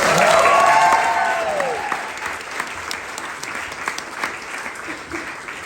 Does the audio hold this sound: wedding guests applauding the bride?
yes